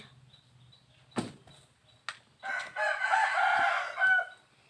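A rooster crows in the open air, with a long, drawn-out call in the second half. A few sharp knocks and a faint background hum come before it.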